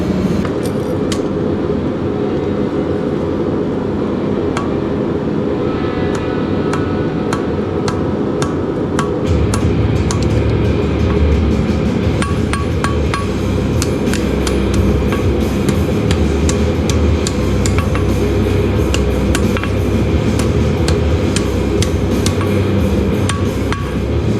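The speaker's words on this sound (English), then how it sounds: "And now we're going to forge this here, and then the J hook." A blacksmith hammers hot steel to forge a J hook with a leaf finial, a steady run of sharp metallic strikes ringing over the anvil amid a constant workshop roar, growing louder and denser midway.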